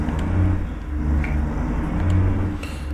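A truck pulling away in American Truck Simulator: a loud, steady, low engine rumble with a faint whir, holding nearly constant throughout with no other sounds over it.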